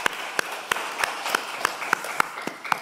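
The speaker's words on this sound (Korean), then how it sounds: "우리 큰 박수로 축하하도록 하겠습니다" Church congregation clapping in celebration, a series of evenly spaced sharp claps about every third of a second over a soft wash of scattered applause, moderately close and steady.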